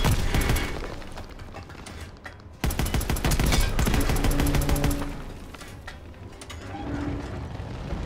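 Rapid machine gun fire rattles in bursts during a Call of Duty WW2 battle with a Sherman tank, loud and dense with mechanical clatter, a brief lull mid-way, then softer continuing fire.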